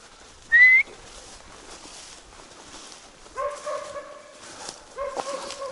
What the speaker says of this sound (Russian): Опять будет лаять там.